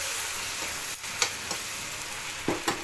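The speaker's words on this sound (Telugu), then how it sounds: "ఇప్పుడు అదే ఆయిల్లో టమాటా ముక్కలు ఫ్రై చేసుకోవాలి" Tomato pieces fry in hot oil with a steady, loud sizzle, broken by a few soft stirring scrapes, close up and without talk.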